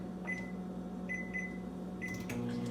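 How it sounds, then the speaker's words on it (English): A microwave oven hums steadily while softening butter, with a low constant drone under a few short high electronic beeps that repeat at intervals. No one speaks. "Once again, it goes back into my microwave."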